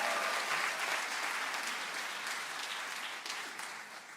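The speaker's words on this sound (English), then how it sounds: "One more time with a round of applause." Steady audience applause fills a university cultural evening hall, a dense wash of many hands clapping at a fairly even level that slowly thins toward the end.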